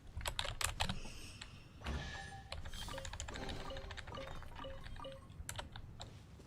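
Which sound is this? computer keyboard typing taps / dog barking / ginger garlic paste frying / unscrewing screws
computer keyboard typing taps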